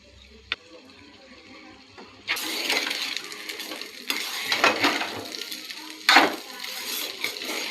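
Hot cooked rice tipped into a pan with egg masala, salt and chili powder for peanut egg rice, then scraped and stirred with a metal spoon in bursts of clattering and faint sizzling, close and loud after a quiet start.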